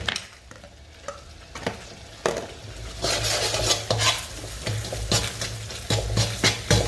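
Butter melting and sizzling in a pan while rice crackers fry at home, a soft hiss growing louder midway, punctuated by clinking, scraping stirs of a utensil against the pan.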